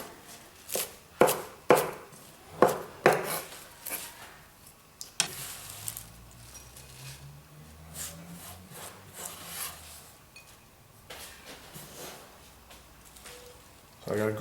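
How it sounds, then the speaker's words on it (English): A knife roughly chops a handful of rocket on a board, with about six sharp, evenly spaced strokes up front, then scattered cuts and scraping, while someone talks. "I've got a good handful of rocket here and I'm just going to roughly chop that."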